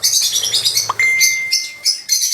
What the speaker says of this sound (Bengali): দেখতেই পাচ্ছেন পাখিগুলো কত সুন্দরভাবে বসে আছে